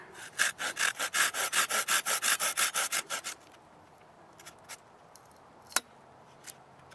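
A Silky Super Accel 210 pruning saw cuts through dead poplar wood in about fourteen quick, even rasping push-pull strokes up close, then stops, leaving a few faint knocks and one sharp click.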